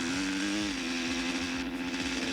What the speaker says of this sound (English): Starting the Super Mantis with collective pitch in the dark with his collective starter.